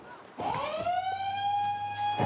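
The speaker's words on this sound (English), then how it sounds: "we're sounding the alarm now" A beach shark alarm siren starts abruptly and wails steadily on a sustained rising tone, close and insistent, with no talking, at a busy Australian beach.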